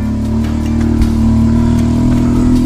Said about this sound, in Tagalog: Gaya niyan, na may motor na dadaan.